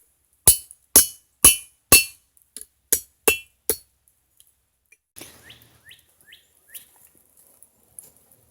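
Hammer blows on steel over an anvil at a campfire forge, eight sharp ringing strikes in a steady rhythm, close and loud, followed by fainter light taps and scraping.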